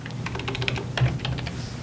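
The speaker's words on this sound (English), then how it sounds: "So I can type in, say, ball," Fingers tap a search term on a computer keyboard, a quick, close run of light clicking keystrokes lasting under two seconds, with no talk over it.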